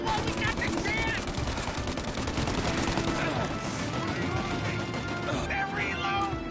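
Dense, continuous gunfire from the Mafia Definitive Edition game, a busy crackling barrage that never lets up, with shouted voices mixed in among the shots.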